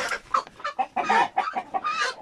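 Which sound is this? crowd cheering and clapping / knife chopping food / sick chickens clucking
sick chickens clucking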